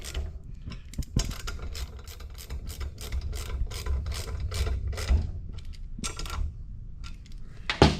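A hand ratchet tightens the new replacement injector bolts on a Toyota 3RZ engine during a Bosch injector install, giving rapid, close clicking runs in repeated bursts with brief pauses between strokes.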